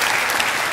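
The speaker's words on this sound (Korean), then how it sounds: "뜨거운 박수로 한번 팽 돌립시다." Warm applause from a church congregation at a Baptist gathering, a dense steady burst of clapping filling the moment, loud and close.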